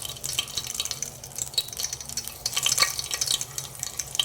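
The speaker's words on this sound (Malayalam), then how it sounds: "നെയ്യ് ചൂടായി കഴിഞ്ഞാൽ അതിലേക്ക് നമുക്ക് മസാലകൾ ഇട്ട് കൊടുക്കാം." Whole spices such as cloves and cardamom crackle and fry in hot ghee in a pressure cooker while making cauliflower pulao, a steady close sizzle with scattered pops and light stirring scrapes.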